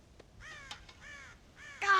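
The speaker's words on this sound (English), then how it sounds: "God damn crows!" Crows caw in the Western game Red Dead Redemption: several harsh, clear caws in quick succession, close and distinct over a quiet background, with a louder burst at the end.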